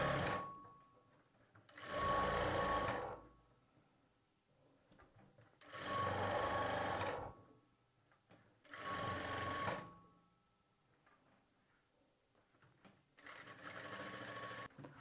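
A sewing machine runs in four separate bursts, each a few seconds long, stitching along the edge of the main fabric while attaching a sleeve. Quiet gaps with faint handling noise fall between the runs.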